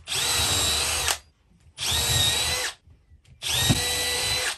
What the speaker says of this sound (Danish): Inden jeg sætter skruen i, så borer jeg lige for.